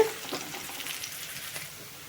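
Onions frying in a pan, a faint steady sizzle with light crackles, alone and without talk.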